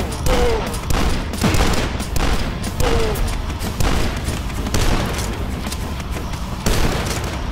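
Rapid gunfire rattles at the player in the shooter game DUSK, repeated bursts of loud shots and booms crowding the whole stretch without pause.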